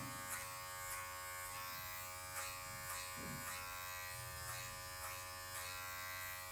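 Electric hair clippers fitted with a number 1 guard cutting a low fade, giving a continuous close motor buzz with regular pulsing strokes as the blade passes through hair, with no voices.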